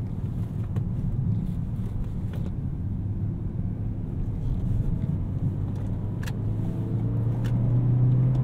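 From inside a 2019 Toyota Corolla XSE hatchback with a manual gearbox, a steady low engine and road rumble carries through the drive, with light clicks, and the engine note rises near the end.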